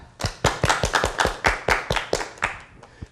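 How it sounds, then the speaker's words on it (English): A small audience claps in a loose, fairly even rhythm, about a dozen distinct close hand claps ringing out one after another and tapering off near the end. "Everybody clap!"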